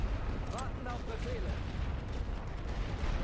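Distant artillery fire pounding enemy artillery positions in The Great War: Western Front, a steady rumbling barrage of booms and blasts with no clear pauses, carrying on under the game's battlefield noise.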